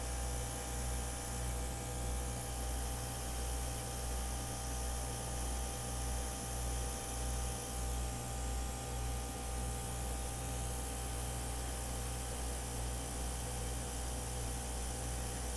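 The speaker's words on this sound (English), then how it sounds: "so it's kind of like me just puffing air, so don't be afraid to use your airbrush" Airbrush puffing air and paint onto a tile from about four inches away, a steady soft hiss that runs unbroken throughout with a low hum beneath, no talking.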